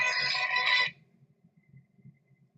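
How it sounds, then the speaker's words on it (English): A phone ringtone playing the Fist of the North Star theme song sounds loud and bright for just under a second, then cuts off, leaving faint low murmuring. "My ringtone is the Fist of the North Star theme song"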